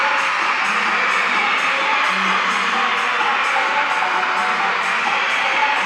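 A loud, steady roar from a crowd packed with shouting children at a Big 12 women's volleyball match between Cincinnati and West Virginia, with whoops rising above constant cheering.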